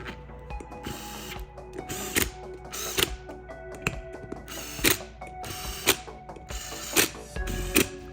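A wrench ratchets as wheel bolts are torqued on a RANS S-21 aircraft, with repeated sharp clicking bursts in an uneven rhythm, close and fairly quiet.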